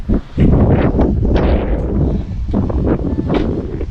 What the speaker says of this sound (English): This island is very windy